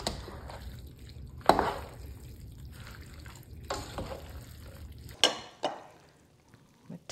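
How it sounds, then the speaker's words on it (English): Spaghetti being tossed with vegetables using tongs, giving a soft wet sizzle with a few sharp clacks and scrapes of the tongs against the pan, fairly close and mostly without talk. "we're gonna go down and mix both the spaghetti with the vegetables"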